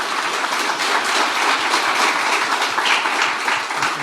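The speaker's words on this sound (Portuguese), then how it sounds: "Pode dar uma salva de palmas" Sustained applause from a church congregation after a testimony at a Mass for the Solemnity of Saints Peter and Paul, dense steady clapping filling the room throughout.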